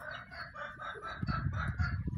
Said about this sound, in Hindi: चेक करें जरा हमारा मुर्गा।